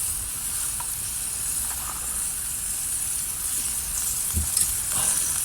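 Oil heating in a pan on a Bushbox camping stove, giving off a soft, steady hiss with faint crackles, close and quiet, with no talk.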